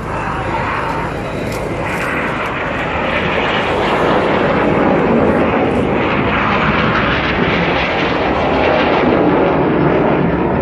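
Red Arrows jets fly the Cyclone formation at the 2014 Rhyl Air Show, a loud, continuous broadband roar that swells and holds steady for the whole stretch.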